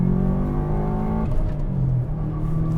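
Turbocharged Subaru Impreza WRX engine accelerating, heard from the cabin as a rising engine tone that drops at a gear change and then climbs again, steady and fairly loud with no voices.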